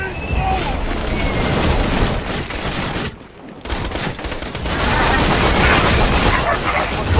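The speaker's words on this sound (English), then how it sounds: "I'm getting more gunfire than usual." Sustained bursts of rapid gunfire and booming explosions from the video game Borderlands 2 fill the scene, broken by a brief lull, with voices talking underneath.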